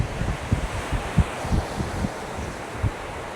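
Strong wind gusts buffet the microphone on a lakeshore, with low rumbling bursts and a steady rush that could include waves breaking nearby; no speech.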